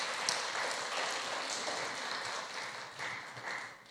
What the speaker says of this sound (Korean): 우리 격려와 위로의 박수 한번 해주도록